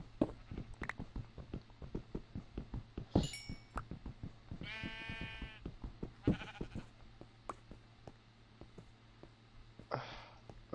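Sheep bleat in Minecraft, one clear wavering bleat in the middle and fainter ones around it, over a steady rhythm of repeated clicks and footstep-like thumps.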